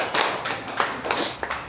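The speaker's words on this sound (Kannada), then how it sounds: "ಜೋರಾಗಿ ಚಪ್ಪಾಳೆ" Audience clapping at a free stroke and paralysis treatment gathering, a handful of sharp, separate claps spaced about every third of a second, close and fairly loud, with no talk over them.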